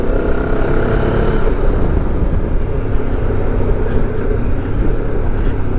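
Benelli TRK 702 motorcycle engine under way on the road, a steady loud drone with wind rush running throughout at a constant, lightly loaded pace, no voices.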